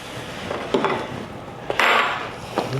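Chopped shrimp and crab meat are stirred together in a bowl, with a few soft scrapes and knocks of a utensil against the dish, close and fairly quiet.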